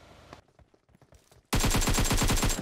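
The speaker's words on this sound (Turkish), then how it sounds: "Silah sesi var orada." Rapid automatic gunfire from PUBG Mobile bursts in loud and close after a quieter stretch of scattered, faint clicks and footsteps, firing as a steady, fast stream of shots to the end.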